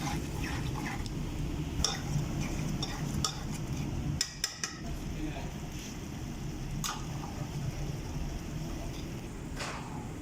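Tomato puree being stirred in a cooking pan for Arabic makbuj rice: soft, steady scraping and stirring with occasional utensil clinks against the pan, fairly quiet and continuous throughout.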